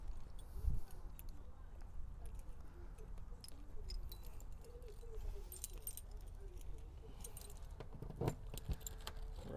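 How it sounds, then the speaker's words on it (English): A set of keys jangling inside a 2018 Axis 27.7 Class A motorhome, several bright metallic rattles and clinks over a low idling rumble, close by, with faint voice in the background. "I'm going to grab one set of keys"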